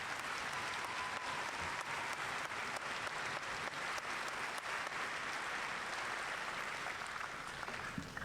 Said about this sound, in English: let's give a round of applause to the Maneuver Center Excellence Band